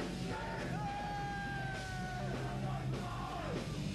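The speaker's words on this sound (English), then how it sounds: "skinheads scream adoration for Hitler at a secret far-right gig" Skinheads at a secret far-right concert in a smoky bunker in Leipzig yell and bellow together in long, sustained chants, a loud crowd of raised voices filling the space continuously.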